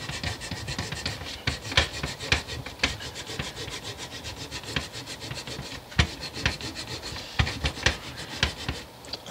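An eraser is scrubbed back and forth over a part of a Fender Jaguar bass guitar that was run over by a car. Rapid, close, dry rubbing strokes repeat irregularly throughout, with no voices.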